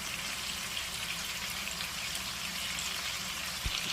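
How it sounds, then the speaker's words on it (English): Steady sizzling crackle of chicken frying in a hot pan, an even hiss that runs throughout with no voices. "while the chicken is frying"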